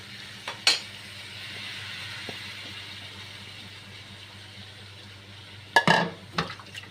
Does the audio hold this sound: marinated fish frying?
yes